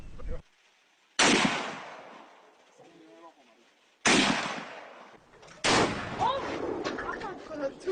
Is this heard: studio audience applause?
no